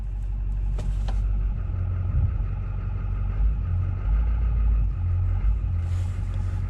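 A 2004 Duramax LB7 3500 dually pickup that had sat for four years runs and rolls slowly, a deep diesel rumble swelling and easing, with a few clunks and brief hiss.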